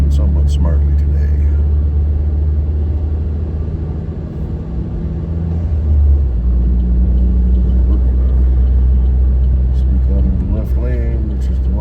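A car cruises along a road a little above the speed limit, giving a steady low engine and tyre rumble that swells slightly midway, with a voice talking over it.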